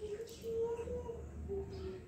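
Birds call with soft, steady cooing tones, dove-like, over constant background noise, with a voice faintly present.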